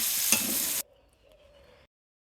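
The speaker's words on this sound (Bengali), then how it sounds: "এরপরে পেঁয়াজ, টমেটো, ক্যাপসিকাম দিয়ে দিব এবং সেটা দিয়ে ভাজা ভাজা করে নেব।" Stir-frying garlic, onion, tomato and capsicum in a pan for chicken fried rice, a loud close sizzle with a sharp spatula scrape that cuts off abruptly, followed by a faint low hum.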